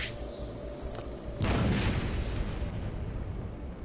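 A grenade goes off in a video game after two short sharp cracks, a single loud boom that fades into a long rumbling tail, with no voices.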